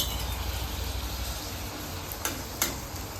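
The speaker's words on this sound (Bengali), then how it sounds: "তো আর এই দিকে আমি পাঁপড় ভাজছি" Papad frying in hot oil at home for a festival day: a steady, close sizzle runs throughout, with a couple of brief sharper crackles near the end and no talking.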